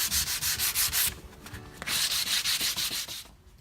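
An orbital sander works the edge of a plywood panel, its steady buzzing rasp pulsing rapidly, pausing briefly in the middle, then resuming before cutting off near the end. No voices are heard.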